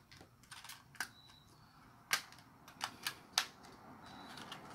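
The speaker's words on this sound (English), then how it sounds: "We'll just slowly go around and you start clicking them evenly across." Plastic frame parts of a Hubsan X4 Desire H502E drone are snapped together by hand, giving a few sharp, scattered clicks and snaps over a quiet background, with no talking.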